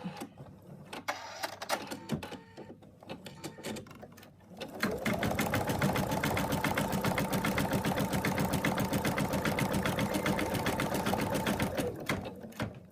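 An embroidery machine stitches an in-the-hoop elephant design. A few seconds of light handling clicks come first, then the machine starts up and runs with a loud, steady, rapid needle rhythm until it slows near the end.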